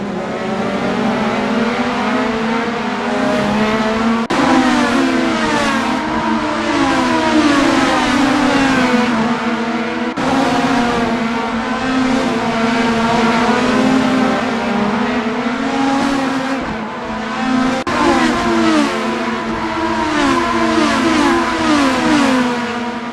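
A Formula Americas open-wheel race car in a sim racing game, its engine screaming loud and close, rising through the revs and dropping sharply at each gearshift as it laps without pause.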